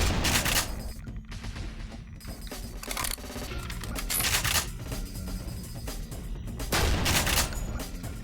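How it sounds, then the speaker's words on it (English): Shotgun blasts in Deus Ex, loud sharp reports repeated in several bursts with brief gaps between, close and dominant, with ringing tails and clattering in between. "It's a sort of shotgun and we're shooting some bow shells out of this thing"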